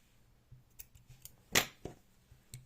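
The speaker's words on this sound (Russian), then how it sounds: "Все, я обрезаю хвостик" Scissors snip a plush yarn tail on a small crocheted dachshund keychain: one sharp, close cut stands out among a few lighter clicks and handling sounds in an otherwise quiet room.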